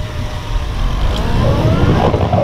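A police motorcycle engine revs steadily as it accelerates down a straight, building in pitch and loudness, close and continuous.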